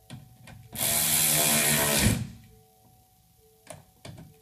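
A power tool tightens screws during an LED headlight conversion on a 2017-2019 Ford Super Duty truck: one whirring burst of just over a second up close, then a few small clicks and taps.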